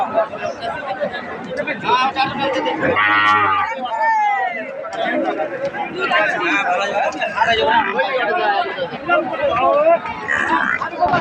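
Cattle at a livestock market moo loudly nearby, with one long low bellow standing out amid a constant hubbub of crowd chatter and voices talking close by.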